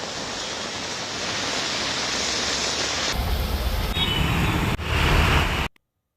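Heavy rain pours over waterlogged streets in Delhi, a dense, steady hiss-like roar that shifts slightly partway through before cutting off abruptly near the end, with no voices.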